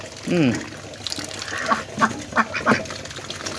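Domestic ducks quack nearby in short nasal bursts while eating, with a louder call at the start and several more spaced through the middle and end.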